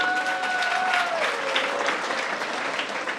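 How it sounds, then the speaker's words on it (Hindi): A crowd claps together at a Hindu religious discourse on Krishna, steady and sustained applause over a faint background tone, gently fading toward the end. "ताली बजाइए"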